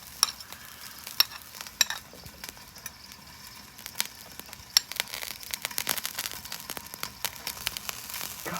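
An omelet fries on a flat-top griddle with leftover cheesesteak beef and vegetables, a soft, steady sizzle broken by scattered scrapes and taps from a spatula, growing busier toward the end.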